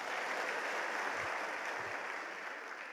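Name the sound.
audience applause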